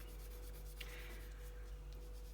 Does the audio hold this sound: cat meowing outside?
no